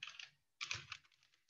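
Quiet computer keyboard typing of a memo entry: two short bursts of rapid key clicks split by a brief pause, close and soft, with no voice.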